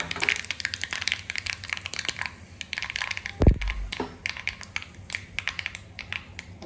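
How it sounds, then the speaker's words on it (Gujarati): Mustard seeds splutter and pop in hot oil with curry leaves and dry red chillies for a South Indian coconut chutney tempering: scattered sharp crackles and pops at close range, with one louder thud midway, and no talking. "રાઈ બધી સારી રીતે ફૂટી ગઈ છે"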